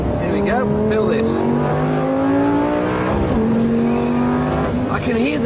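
A Lamborghini Gallardo in sport mode revs hard and climbs through gears, rising and dropping in pitch up close, with someone talking over the roar.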